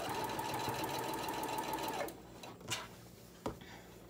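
A sewing machine stitches a Christmas pillow case, running in a steady fast whir for about two seconds before stopping, followed by a couple of short clicks and knocks from the machine nearby.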